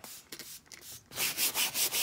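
Rapid scrubbing strokes of a stiff brush working foaming cleaner into fabric, close and fairly loud, in short rhythmic bursts with no talking.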